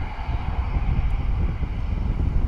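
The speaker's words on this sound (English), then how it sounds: "It's like a bit of a straight out departure for the ATR 72-600 Aer Lingus." Turboprop engines of an Aer Lingus ATR 72-600 run at takeoff power as the plane departs at Bristol Airport: a continuous broadband roar with steady low rumble and wind buffeting, loud and unbroken throughout.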